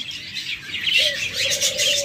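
Pet lovebirds chirp close by in quick, high, repeated tweets, with one longer call drawn out in the second half and no talk.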